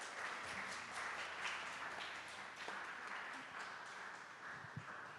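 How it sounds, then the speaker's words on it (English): An audience at a talk with artists and writers breaks into steady, sustained applause, a dense patter of many hands clapping at moderate distance throughout. "please give a round of applause to Haleh."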